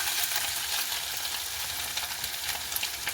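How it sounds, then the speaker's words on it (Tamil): Crushed ginger-garlic paste sautés in oil for an egg devil, a soft, continuous hiss with small crackles and pops scattered across the few seconds, close by and without speech. "அந்த எண்ணெயிலேயே நாங்கள் இடித்து வச்சுருக்கிற இஞ்சி உள்ளி பேஸ்ட்டை கொஞ்சம் வதங்க விட போகிறோம்"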